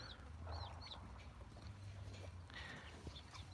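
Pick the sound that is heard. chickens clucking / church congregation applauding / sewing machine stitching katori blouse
chickens clucking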